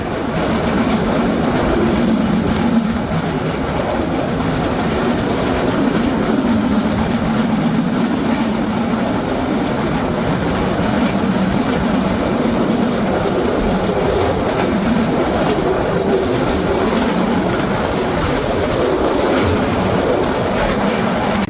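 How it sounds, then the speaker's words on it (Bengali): Shimanta Express passenger train running through Madnagar railway station without stopping: a steady, loud rumble of wheels and carriages throughout, with no breaks or talk. "ট্রেনটি এই মুহূর্তে থ্রুপাস করে যাচ্ছে মাদনগর রেলওয়ে স্টেশন"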